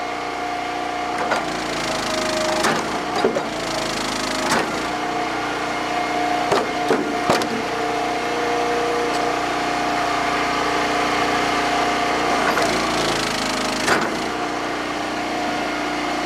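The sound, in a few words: log splitter splitting big oak rounds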